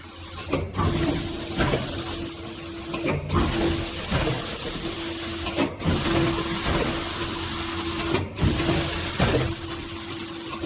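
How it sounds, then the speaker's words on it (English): A fully automatic one-colour UV screen printer runs a logo print onto a plastic cup, giving a steady mechanical hum with a tonal whine and regular sharp clacks about every two and a half seconds, loud and close with no talk. "the set screen, the machine printing, the logo will be transferred to the card"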